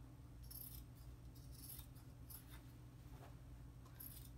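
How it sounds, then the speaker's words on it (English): Scissors cut through old denim jeans along a seam. Faint, crisp snips come at a steady pace over a low room hum, with no talk. "So I'm just gonna cut along the seam here."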